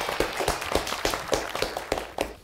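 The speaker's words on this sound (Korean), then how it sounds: "수고했다고 박수 한번 쳐주세요" A studio audience claps for a DJ and teaching assistant on a hip-hop DJ show, a steady burst of hand claps with sharp repeated peaks and no talk over it.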